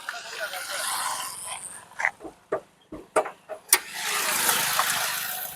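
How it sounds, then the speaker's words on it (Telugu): Several sharp cranking bursts from a nearby 2012 Maruti Swift petrol engine, then it catches and settles into a steady, smooth idle. "ఒకసారి ఇంజిన్ కూడా స్టార్ట్ చేసి చూపిస్తాను చూడండి"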